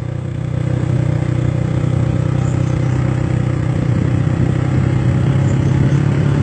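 A motorcycle engine runs close by with a loud, steady, unbroken drone and a faint mechanical clatter, and no voices are heard.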